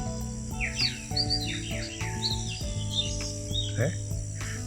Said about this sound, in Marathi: वेगवेगळ्या पक्ष्यांचे खूप छान आवाज येत आहेत.